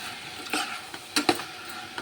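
Food being stirred and mixed in a frying pan, with a soft continuous sizzle broken by a few short scraping clatters of the spoon against the pan, close and fairly quiet.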